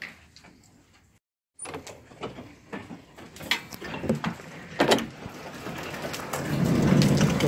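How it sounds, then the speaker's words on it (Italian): Hail clatters and patters on a surface, building from scattered sharp hits into a dense, heavier downpour with a low rumble toward the end. "sta iniziando la grandine"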